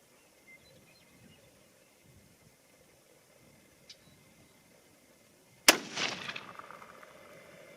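A single sharp, loud crack from a .243 Winchester rifle firing a 70-grain bullet, followed by a short rumbling echo that fades out. Only quiet background hiss comes before it.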